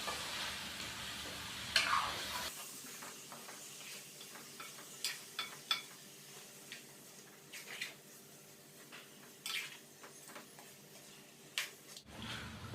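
Chopped pumpkin being stirred into fried beef and spices for a kaddu gosht curry, giving soft repeated clicks and scrapes of a spoon against the pan with a faint sizzle, evenly spaced and fairly quiet throughout.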